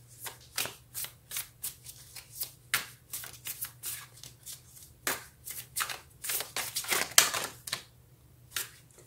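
Tarot cards are shuffled by hand in a rapid run of crisp riffling and slapping bursts, close and fairly quiet, with short pauses between passes and no talking.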